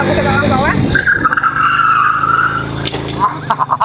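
Motorcycle tires skidding during emergency braking, a loud sustained squeal lasting about two seconds, followed by brief bursts of vehicle noise, with someone talking before and after.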